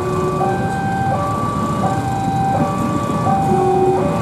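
A train passes on track 1 at a level crossing with a stuck car, its steady rumble joined by repeated tonal horn or warning-bell notes, loud and close throughout.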